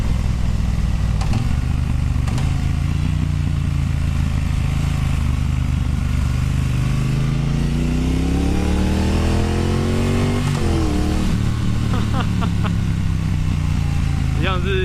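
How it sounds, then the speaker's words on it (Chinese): A Triumph Bonneville Bobber with a 1200 engine, heard on a test ride, rumbles loudly and continuously up close, its pitch climbing and dropping through revs and gear changes amid wind noise. "一样是1200这个引擎的力量没话讲"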